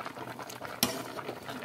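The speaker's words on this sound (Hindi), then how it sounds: "अभी इसको उबालने के लिए डाल दिए हैं और उबल रहा है अच्छा से" Wild pitalu kanda tuber boils in a pot in a village kitchen, with a steady bubbling simmer, soft stirring scrapes and one sharp metallic clink midway.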